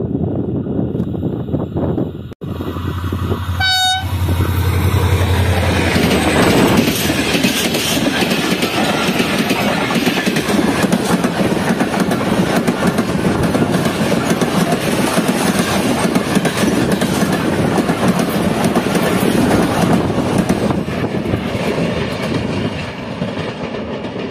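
The 16 Down Karachi Express passing at speed through desert country near a mountain curve, with one brief horn blast from the HGM30 locomotive, then a steady loud roar of wheels and wagons that runs on without a break.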